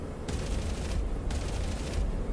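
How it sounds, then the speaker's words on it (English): P-47D Thunderbolt machine guns fire in a flight simulator game: two rapid bursts, each under a second long, harsh and dense over a steady engine drone. "let's test the guns and see how the cockpit shakes"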